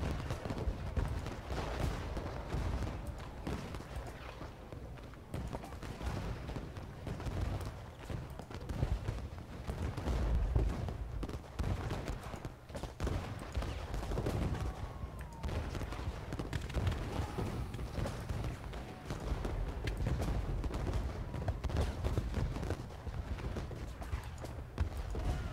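Continuous rumble of distant cannon and musket fire from a Civil War battle at Gettysburg in the strategy game Ultimate General, a dense, steady wash of gunfire with no talk over it.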